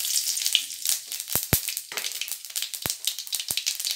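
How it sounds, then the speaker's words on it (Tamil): Fennel seeds fry in hot oil for boti curry with a bright, close sizzle broken by a few sharp, isolated crackles and pops, and no voices. "பெருஞ்சீரகம் நல்லா பொரிஞ்சிடுச்சு"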